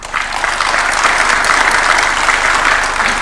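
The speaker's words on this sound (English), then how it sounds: "I kindly invite everyone to join me in giving a warm round of applause to these distinguished" Loud, sustained applause fills a hall at a university charter award ceremony presided over by President Ruto, with a dense, even wall of clapping from a large audience throughout.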